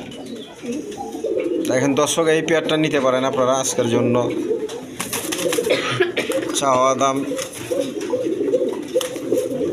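Coloured golla Giribaz pigeons coo softly nearby, repeated low burbling calls running beneath someone talking over them throughout.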